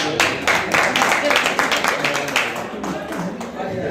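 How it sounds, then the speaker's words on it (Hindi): Audience clapping at a poetry recital, a burst of many hands in dense rhythmic applause that carries on through the clip, close and fairly loud. "ताली वाली बजा करके"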